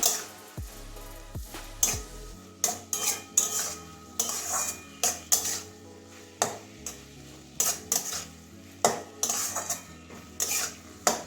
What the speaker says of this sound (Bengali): ভালো করে মিশিয়ে দেবো তাহলে রসুনের গন্ধটা পাওয়া যায়